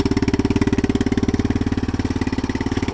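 A Yamaha Big Bear 350 ATV engine idles on choke while warming up, with a steady, rapid, close-up putter and even pulsing throughout.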